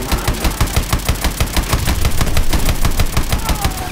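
The main gun of a combat vehicle in Call of Duty Advanced Warfare fires a rapid, steady stream of loud, close shots, evenly spaced like machine-gun fire, holding through the whole burst without pause.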